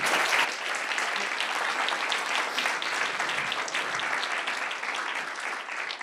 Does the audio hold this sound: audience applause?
yes